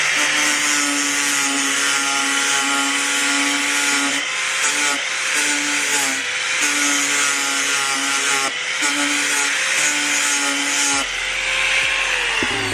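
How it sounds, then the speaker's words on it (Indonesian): A flexible sanding disc on an angle grinder works over hollow steel tube and steel angle iron, a loud steady whine with brief dips in pitch as the disc bears down, running continuously throughout. "Kita akan mengamplas dua buah besi ya, yang dimana besi pertama ini besi hollow"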